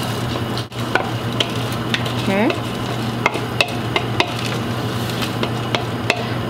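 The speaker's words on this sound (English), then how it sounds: "So we're gonna add the rice to the boiling liquid." Strained rice goes into a pot of boiling liquid and is stirred, a steady bubbling hiss with a spoon knocking the pot in regular light taps; a voice speaks briefly.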